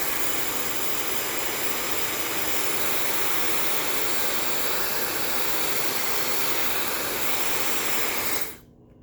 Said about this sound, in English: if we take the hairdryer and get ready,